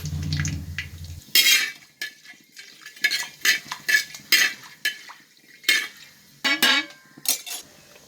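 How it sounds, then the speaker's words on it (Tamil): Cinnamon, fennel and cardamom sautéing in ghee and coconut for prawn biryani, heard as repeated metal clinks and scrapes of a ladle stirring in a pan, in irregular bursts up close. "பட்டை, சோம்பு, ஏலக்காய் வதங்கிட்டு இருக்கு இறால் பிரியாணி செய்யறதுக்கு."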